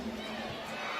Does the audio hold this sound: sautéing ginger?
no